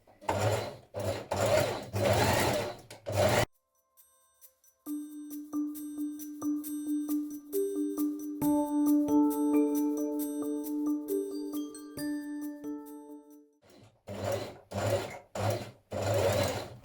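A sewing machine back tacks a seam on a wrap dress in two short runs of rapid stitching at the start and end, with a quiet stretch of soft ringing tones in between.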